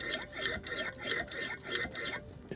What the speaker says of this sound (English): I'll show you how it gouges.